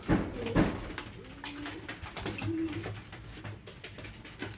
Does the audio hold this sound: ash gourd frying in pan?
no